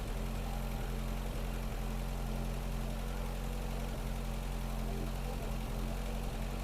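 A car engine idles steadily at close range, a low continuous rumble with a faint regular throb and no voices over it.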